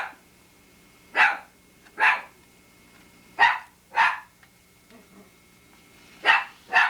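A dog barks six times in close pairs, sharp and fairly near, with short silent gaps between each pair.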